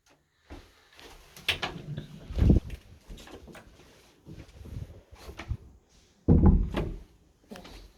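A door in a rental unit is opened and closed several times, with soft handle clicks, creaks and two heavier thuds as it shuts, close by in a quiet room.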